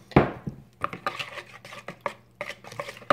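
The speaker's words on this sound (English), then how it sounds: "I'm going to mix the egg" Eggs being whisked in a bowl for lemon curd, with quick irregular clinks and taps of a utensil against the bowl in short bursts, close and fairly quiet.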